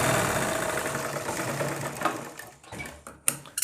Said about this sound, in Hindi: तो हमें ये ऐसे पकड़ना है और देखिए इस तरीके से खींच के सिलाई लगानी है।